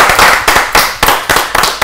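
An audience clapping during a game at a comedy show, a burst of loud, sharp claps at a quick rhythm, roughly in unison, with no talk over it.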